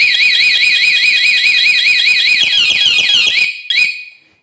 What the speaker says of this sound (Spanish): miremos cómo la alarma entra en pánico